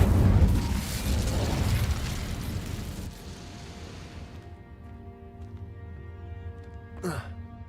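Incendio fire spell bursting in Hogwarts Legacy, a loud roaring blast that fades over several seconds, followed by a sharp short whoosh near the end.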